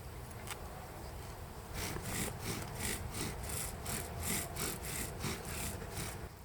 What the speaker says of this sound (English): So now I have to drill a new hole.